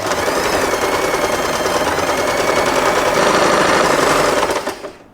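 A sewing machine stitches fabric for a puffy scrunchie, a loud, fast, continuous mechanical whir and rattle close up that runs steadily before slowing and stopping near the end.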